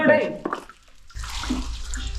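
Spring water seeping and trickling inside a 200-year-old well, a splashy running flow that drops away briefly and then returns steadily, with people talking nearby.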